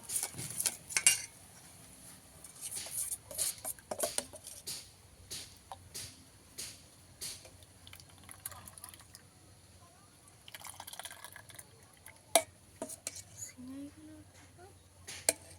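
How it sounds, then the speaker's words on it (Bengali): Light metal spoon clinks and soft wet plops as semai ice cream mixture is spooned little by little into moulds, intermittent and close, with occasional quiet talk. "তো অল্প অল্প করে চামচে করে সিমাই তুলে দিয়ে দেব।"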